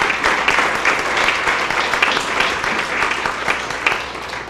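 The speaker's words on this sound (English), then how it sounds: "I think he deserves a big round of applause" Sustained applause from an audience at a county special presentation honoring a county official, a steady dense clatter of clapping that holds evenly loud throughout.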